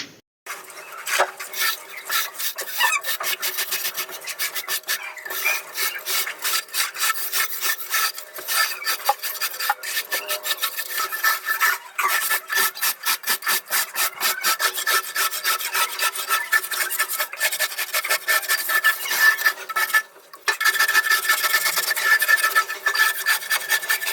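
A straightedge scrapes repeatedly across wet cement plaster along a guide string, rapid rasping strokes in a steady rhythm, close and fairly quiet, with a brief pause near the end.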